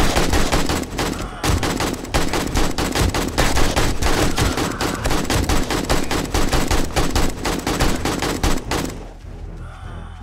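Rapid automatic AK rifle fire in the survival game 7 Days to Die, sustained loud bursts of shots for about nine seconds before stopping abruptly.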